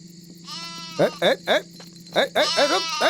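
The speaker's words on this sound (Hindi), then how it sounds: "और बकरियां बिछड़ के यहाँ चली आई होंगी" Goats bleat in a series of short wavering calls, several close together and loud, over a steady background hum, with people talking around them.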